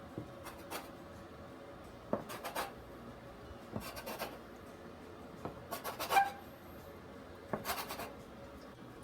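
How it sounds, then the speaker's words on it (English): A cutter slices sweetened condensed milk bread dough into about seven rows, giving scattered short scraping and rubbing strokes in bursts, close and moderately quiet, with no talking. "So using my cutter, we're going to cut this"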